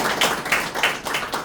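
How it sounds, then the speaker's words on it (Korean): A room full of people at a civic forum in Yeosu, South Korea, claps together in steady, continuous applause. The sound is fairly loud and close, with no talking over it. "박수로 시작하겠습니다."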